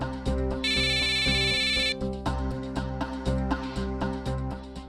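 An electronic phone ringtone trills for about a second over steady, loud background music with a rhythmic pulsing beat.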